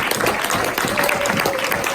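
Congregation loudly applauding Jesus at an evangelical church service, a close, dense roar of many hands clapping, steady and energetic throughout, with faint crowd voices mixed in.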